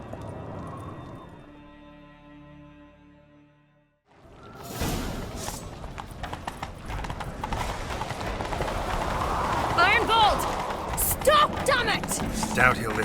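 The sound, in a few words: horse galloping, from a video game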